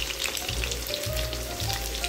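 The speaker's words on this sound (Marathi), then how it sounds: "एकीकडे आम्ही चिकन फ्राय केलेलं आहे" Chicken fries in a pan with a soft, continuous sizzle and crackle at moderate distance, some low thumps from handling the cookware mixed in, and no voices.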